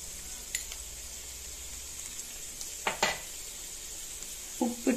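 Gooseberry pickle with Kashmiri chili powder sautéing in a pan gives a quiet, steady sizzle, with a few soft scrapes of stirring near the middle and end.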